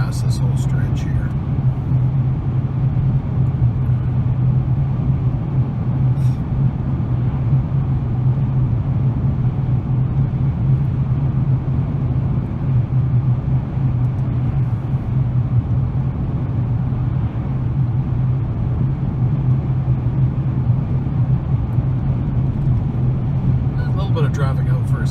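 A car cruises along a highway, heard from inside the cabin as a constant low road rumble and engine drone, steady and fairly loud the whole time.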